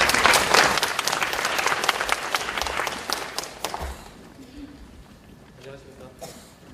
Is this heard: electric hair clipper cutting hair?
no